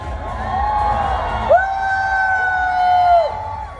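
A crowd at a Grab Food Merry&Munch fan event in Thailand shouts a long, drawn-out cheer together on cue. Two sustained, voice-like whooping tones rise and hold, filling the space at a steady loudness.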